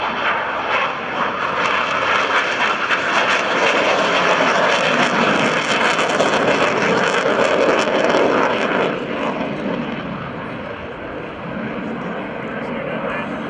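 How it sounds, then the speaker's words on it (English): An F/A-18C Hornet jet of the United States Navy at an airshow, its engines producing a loud, sustained roar that swells and holds, then eases slightly, with an announcer talking over it. "from the left and the United States Navy, here is the FA-18 Hornet"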